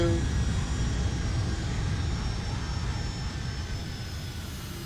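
Boeing 757 jet engines in a flight simulator game, a steady loud broadband roar with a low rumble and faint high whine, holding constant and easing slightly toward the end.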